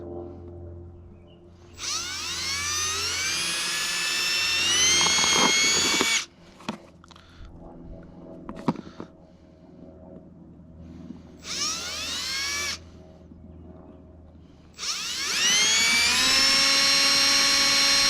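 Power drill boring four screw holes, loud whining bursts with rising pitch that start and stop across the clip, separated by quieter gaps with clunks and handling noise.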